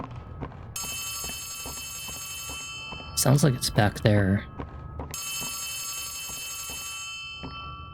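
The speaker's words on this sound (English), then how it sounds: "I really don't like the sound of that phone." In the Poppy Playtime Chapter 3 video game, a telephone rings steadily in the distance in two stretches, and a person speaks briefly between them.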